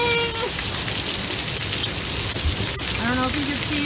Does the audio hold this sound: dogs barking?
no